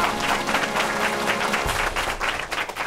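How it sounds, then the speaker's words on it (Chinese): A studio audience on a television variety show applauds a teacher with dense, steady clapping that fills the whole stretch. "给老师掌声鼓励一下"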